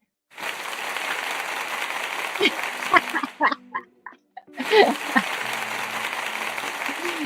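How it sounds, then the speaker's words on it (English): A single person applauds themself, bursts of close hand clapping that stop briefly for a few murmured voice sounds, then resume just as bright and steady. "I'm giving myself some applause"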